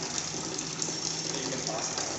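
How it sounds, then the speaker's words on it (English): Water pumped continuously into a sump tank in an urban water supply setup gives a steady, dense rushing wash with a low mechanical hum beneath, constant and unbroken throughout. "So here the sump water is continuously pumping here."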